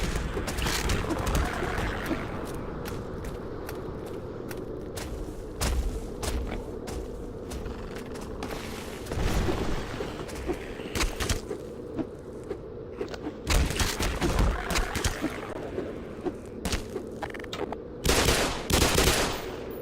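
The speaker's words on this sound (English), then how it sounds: "Oh yay, rockets." Rockets and rapid gunfire in an alien shooter video game, a dense barrage of bursts and explosive thumps running continuously and loudly throughout, with no break in the action.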